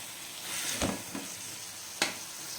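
Chilli powder is stirred into sirraku leaves frying in a pan, a steady soft sizzle broken by a couple of brief scraping stirs, close and alone.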